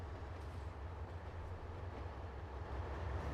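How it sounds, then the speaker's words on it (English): A Deltic diesel locomotive pulling Mach 1 coaches slowly in Trainz Simulator 2, a steady low engine rumble with rolling rail noise, heard alone and fairly close. "there's a train! Look at that! Deltic pulling some Mach 1 coaches"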